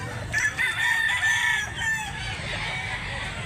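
A rooster, a black-legged bullstag at a cockfighting rooster sale in Barili, Cebu, crows once loudly and close by, a drawn-out call lasting under two seconds against faint background noise.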